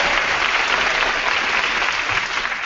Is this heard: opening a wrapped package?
no